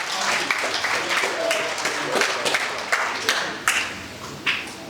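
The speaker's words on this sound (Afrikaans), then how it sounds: "Ja, lekker hande klap" A church congregation at a baptism claps along with cheering voices, scattered sharp hand claps standing out over a busy wash of crowd sound and talk.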